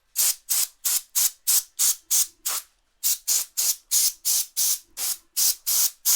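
An air duster sprays compressed air onto a graphics card, a GTX 1080 Ti being torn down, in a steady series of about fifteen short, sharp, loud hissing bursts with a brief pause partway through.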